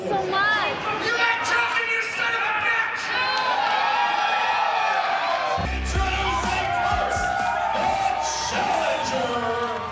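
Wrestling event crowd in an arena cheering for Dusty and heckling the Sheik, a dense, continuous roar of shouts, whoops and chatter with a heavy thud partway through.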